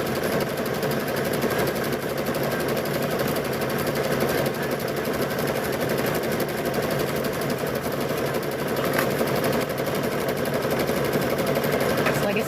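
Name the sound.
machine stitching quilt binding along fabric edge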